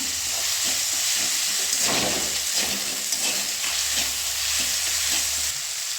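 Ginger sizzles steadily in a hot pan while a spoon stirs it, with soft scraping taps over a constant frying hiss and no voices, early in a kofta curry made with moong dal and green banana.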